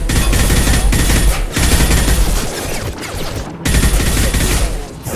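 Rapid bursts of automatic gunfire rattle loudly in a Mass Effect 2 combat sequence, with short pauses between sustained volleys.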